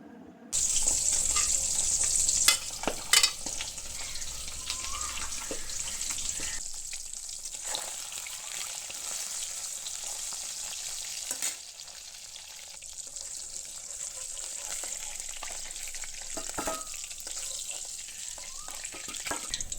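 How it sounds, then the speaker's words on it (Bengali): Cumin seeds and potatoes hitting hot oil in a pan, a loud burst of sizzling that settles into a steady bright frying hiss with a few sharp crackles and utensil knocks. "তেলের মধ্যে দেব জিরে, এরপর দেব আলু।"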